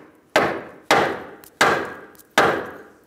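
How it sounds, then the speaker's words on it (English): Four evenly spaced, loud, sharp hammer strikes ring out as a bolt is tapped out of a Ford Taurus front lower control arm, each hit decaying quickly before the next. "tap the rest of the bolt out"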